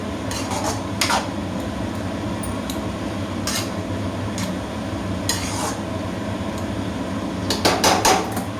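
Ash gourd is stirred in ghee in a pan, with repeated metallic clanks and scrapes of a spatula at an uneven rhythm over a steady, soft frying sizzle, close and fairly loud.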